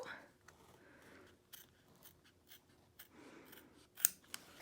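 Scissors trim fabric for an in-the-hoop embroidered zip bag, making soft, close snips and rustling cuts at irregular intervals in a quiet room, with one sharper clip near the end.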